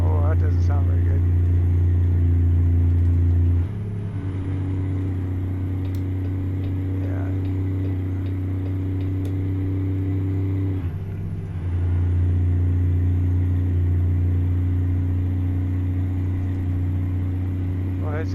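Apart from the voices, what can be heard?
faltering truck engine in American Truck Simulator video game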